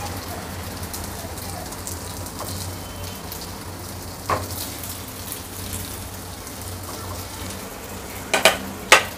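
Dough balls for a fasting recipe frying in hot oil in a pan, a soft steady sizzle with a few sharp crackles and clinks near the end.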